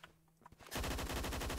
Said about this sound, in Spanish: Uy, cuántos tiros.